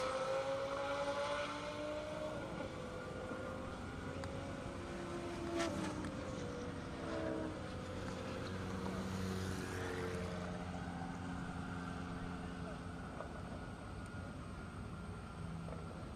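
An Audi R8 and a Lamborghini Huracan drag racing on a half-mile airport runway in Indiana, a distant, steady engine roar with pitch sweeps as the cars pass, faint under broad background noise, with no speech.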